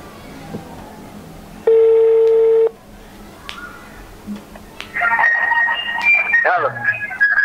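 Telephone tones during a prank phone call: one steady electronic tone lasting about a second, then a faint click and a later run of shifting beeps and tones, loud and close.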